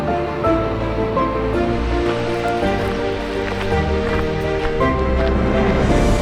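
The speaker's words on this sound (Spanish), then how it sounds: "la caída del agua en la presa del Dique" Water from the Turón River, near El Burgo, Málaga, Spain, pours steadily over a dam in a constant broadband rush, unbroken and moderately loud.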